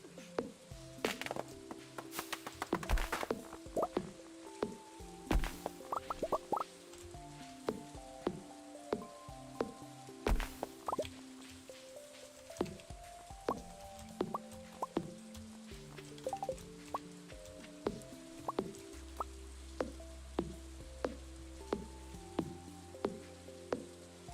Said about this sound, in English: it also is raining